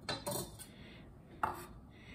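A knife clicks twice on a cutting board while vegetables are cut in half in a home kitchen, two short, close, distinct taps.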